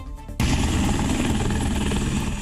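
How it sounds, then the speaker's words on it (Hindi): An Apache helicopter thunders overhead at a Republic Day parade, its loud, continuous rotor-and-engine roar surging in suddenly and holding steady. "आसमान में अपाचे हेलीकॉप्टर की गर्जना है"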